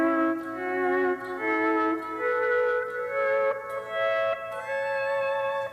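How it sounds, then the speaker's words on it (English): A pedal steel guitar plays a slow melody where each note is cut off and then swelled back in with the volume pedal, producing smooth rising note entries one after another, clear and close. "If I was to play a little melody and try to cut off every note and then squeeze the volume pedal in"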